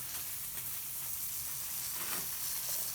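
Cajun-style smelts sizzle steadily in a hot pan, a continuous close crackling hiss that holds even throughout with no talk over it.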